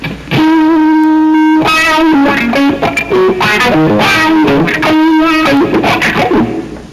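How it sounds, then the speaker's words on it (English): Distorted electric guitar played through an FX17 wah-wah and volume pedal, with sustained notes and quick phrases whose tone sweeps and swells, loud and close with no talking. "What I'm using is going to be it's an FX17. It's a wah-wah and a volume pedal"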